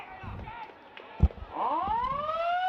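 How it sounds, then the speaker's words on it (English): A long rising siren blares across Fremantle Oval to end a WAFL Colts football match between South Fremantle and East Fremantle, sounding loud and sustained after a brief thump, with a commentator's voice and crowd murmur beneath. "Siren sounds at Fremantle Oval"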